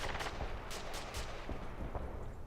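Shotgun firing buckshot in Renegade X, a burst of sharp blasts mixed with other distant gunfire, several shots in quick irregular succession amid a dense, noisy battle.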